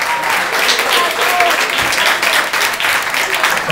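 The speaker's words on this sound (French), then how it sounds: "On les applaudit, on s'applaudit." Audience applause at a radio contest finale in a café, a dense steady patter of many hands clapping throughout, loud and close, with a few voices faintly mixed in.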